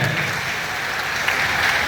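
A church congregation claps steadily at a French-language sermon on preaching the good news, a dense, even patter of many hands that stays close and level for about two seconds with no speech.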